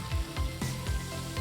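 Pork and onion fry over high heat in a pan for a kimchi stir-fry, a steady close sizzle with soft scraping stir strokes repeating every fraction of a second.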